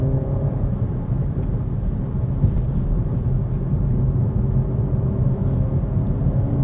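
A car engine pulls hard in third gear after a downshift, a steady, loud low rumble heard from inside the cabin that holds even with no break.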